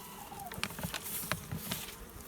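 Mason bees fly around an apiary, their buzzing wings rising and fading as individual insects pass close, with soft patter and outdoor ambience in between.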